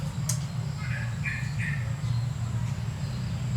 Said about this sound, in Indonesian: Kemudian ada lagi suara perkutut salit.